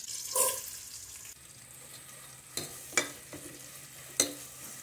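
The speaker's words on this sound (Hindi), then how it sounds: "2 अदद हमने बड़े साइज के प्याज लिए हैं जो हम ब्राउन करेंगे।" Onions browning in hot ghee for beef biryani, a low steady sizzle with a few sharp clinks of a spoon stirring against the pot, no voices.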